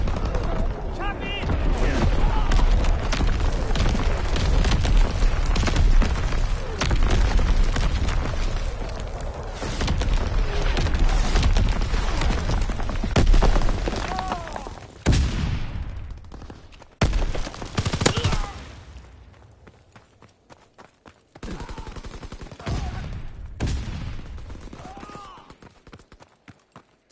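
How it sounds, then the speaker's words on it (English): Rapid bursts of artillery and gunfire pound through a WW2 shooter battle, dense and loud for the first fifteen seconds before breaking into scattered, sparser blasts, with voices heard over the action. "Artillery ready for orders. Awaiting coordinates. Firing for full effect."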